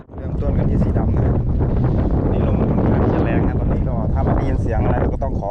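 Strong wind buffeting the microphone at Lam Takhong dam, a loud continuous roaring rumble, with someone talking over it throughout.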